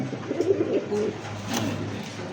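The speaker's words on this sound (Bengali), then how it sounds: "দেখেন নরের ডাক শুনছেন?" A male Black Nun pigeon coos close by, a few soft, low, rolling calls in quick succession against a quiet background.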